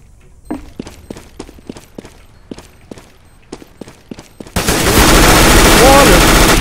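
Counter-Strike: Global Offensive gunfire: a string of sharp, separate shots cracking at uneven intervals, then a sudden loud, sustained burst of dense firing and noise that fills the last two seconds.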